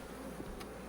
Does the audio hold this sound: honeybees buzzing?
yes